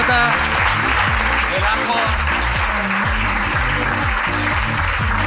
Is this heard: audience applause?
yes